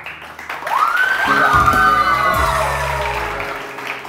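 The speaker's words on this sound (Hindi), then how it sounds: "नूरपुर के लिए बहुत सारी तालियां" A TV morning show studio audience claps and cheers, with a rising whoop over the crowd and a swell of music, the applause building and then slowly fading.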